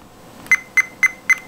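A Fluke 87 digital multimeter in continuity test mode gives four short, evenly spaced electronic beeps, clear and close with no talking.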